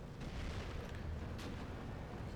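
Artillery explosions rumble through a Steel Division 2 battle, a dense, continuous low roar of distant booms with one brief sharper burst partway through.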